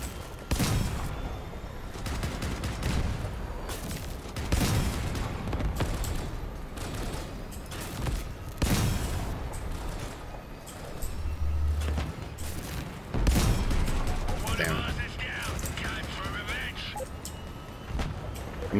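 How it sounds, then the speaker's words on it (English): Gunfire in the vehicle combat video game Crossout: repeated loud bursts and volleys of shots across the whole stretch, with engine rumble and someone talking over the fighting. "Who's shooting me?"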